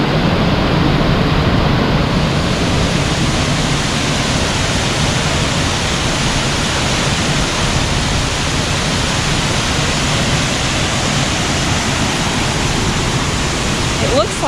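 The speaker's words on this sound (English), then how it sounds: "It looks like there's a waterfall right there too" A waterfall roaring as a loud, constant wash of rushing water that drowns out everything else for the whole stretch.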